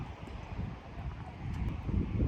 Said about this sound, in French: En plus de ça, énormément de vent.